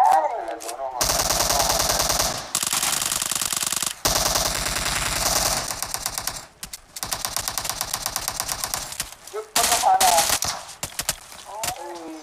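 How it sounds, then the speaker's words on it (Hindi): UMP submachine gun in a battle royale mobile game fires in rapid automatic bursts, loud and close, several long strings of shots broken by short pauses, with brief talk between bursts. "यूएमपी में टट टट टट करने लगा मैं भाई"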